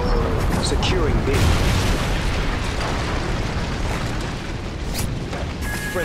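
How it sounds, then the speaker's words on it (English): A KEM strike in a multiplayer shooter video game sets off a massive, continuous rumbling explosion that stays loud for several seconds with scattered bursts and debris, while excited players talk over it. "Friendly KEM strike."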